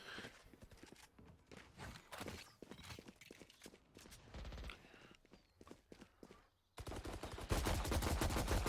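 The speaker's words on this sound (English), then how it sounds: "Some gunfire trades back and forth in the garage." Bursts of rapid gunfire and scattered single shots from a video game during a college esports match, irregular and moderately loud, ending in a dense continuous barrage.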